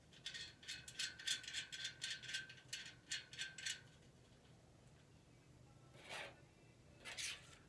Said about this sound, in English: You take the regular nut,